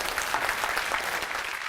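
Studio audience applauding steadily at a Marathi television home game show, a dense, even burst of clapping close by with no talk over it.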